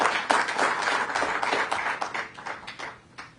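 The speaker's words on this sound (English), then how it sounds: "Let's give Dr. Mantosh Dewan another round of applause for what he has done here." Audience applause at a governor's event, a dense steady wash of many hands clapping that carries on without pause before thinning slightly toward the end.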